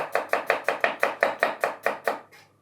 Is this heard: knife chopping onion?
yes